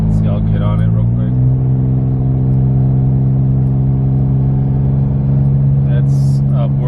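Inside the cab of a Toyota 4Runner fitted with a Carven high clearance exhaust, cruising on the highway around 60 mph, a steady loud low engine drone rises in pitch under acceleration, with someone talking over it.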